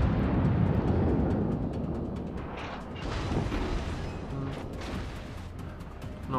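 Heavy naval guns on a battleship in World of Warships boom toward a cruiser, a dense rumbling wash of low blasts and mechanical noise that carries on steadily without pause, with no voices over it.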